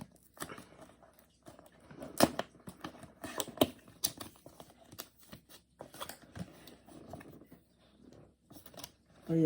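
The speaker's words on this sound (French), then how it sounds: "Mon tapis de souris RGB. Alors, on va l'ouvrir." The packaging of an RGB mouse pad is opened, with scattered crinkles, taps and plastic rustles that come in short bursts, and some quiet talk between them.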